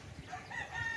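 A rooster crowing at a chicken farm, a short drawn-out call heard at a distance over a noisy background of clucking fowl.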